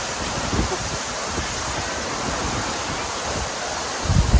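Water pours down Jakkadin waterfall near E-Tong, Pilok, in a continuous, loud, even rushing hiss that holds steady throughout and swells with a low rumbling burst at the very end.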